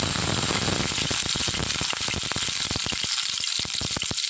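Five garlic cloves sizzle in hot coconut oil, a loud, constant frying hiss full of rapid sharp crackles and pops, with no talking.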